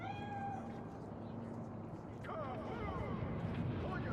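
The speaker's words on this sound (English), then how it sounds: "Chill. It's just a cat." A cat meows several times in the video game Cyberpunk 2077, rising and falling cries heard over a low ambient game background while a voice talks.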